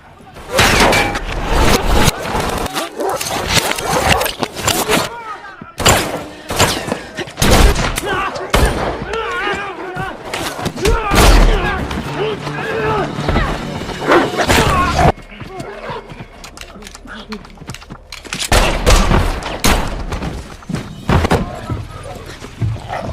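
Bursts of film gunfire from a John Wick Chapter 3 shootout, loud rapid shots and crashes in dense clusters, with a narrator speaking over the action throughout.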